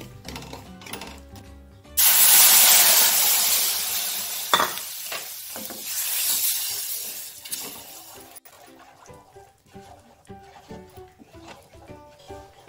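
Milk pours into roasted semolina in a hot pan, hitting with a loud burst of sizzling and bubbling that slowly settles as a spoon stirs with repeated scraping and clinking, close up and without talk.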